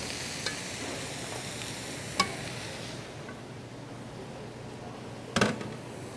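Kale and collard greens cook in a pan with a soft, steady sizzle under room noise, broken by a couple of brief clicks and a sharper clatter near the end.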